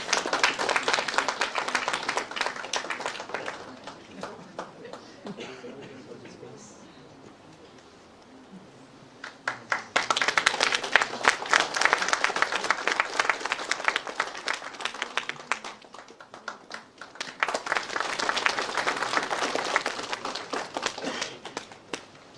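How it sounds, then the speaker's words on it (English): Audience applause fills a hall at the NIT Meghalaya Institute Day 2025 ceremony as an honoree is invited to the dais, coming in three sustained bursts of dense clapping separated by brief quieter lulls. "let us welcome her with a warm round of applause"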